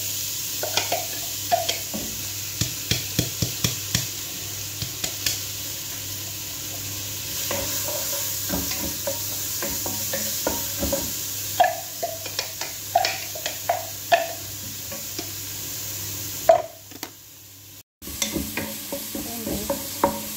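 Garlic and onion sautéing in a pan, a steady sizzle with repeated close stirring clicks and scrapes of a utensil throughout, briefly dropping out near the end.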